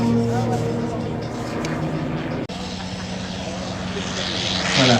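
A steady vintage piston propeller aircraft engine drones with a low harmonic hum at La Ferté-Alais air show 2013, holding nearly constant throughout, with a brief dropout midway and a slight swell at the end.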